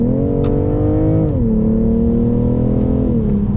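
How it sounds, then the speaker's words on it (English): BMW car with a B58 engine accelerating hard, its steady loud engine note climbing and dropping twice as the transmission shifts through gears, with no talk over it. "The B58 is an absolute beautiful engine, and like I said, if you just put it back in sports again, sports plus, it just changes by itself, and it just goes."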